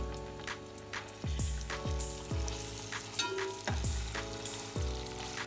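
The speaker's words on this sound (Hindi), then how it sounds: "प्याज के अंदर लहसुन अदरक डाल के मैंने भून लिया" Steady sizzling and crackling of onions frying with garlic-ginger paste in a hot pan, with occasional scrapes and stirs of a spoon, close and continuous.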